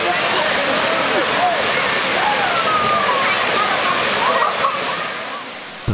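A tall waterfall in Laos, roughly 60 metres high, roars as a loud, steady rush of water with continuous splashing throughout, easing slightly near the end; faint voices sit underneath.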